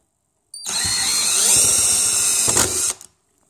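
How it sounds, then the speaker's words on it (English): Cordless electric drill set to drill mode spinning a Dewalt torsion driver bit, one continuous whirring run of about two and a half seconds, close and loud, starting and stopping abruptly with a brief rattle near the end. "Let's put it on drill."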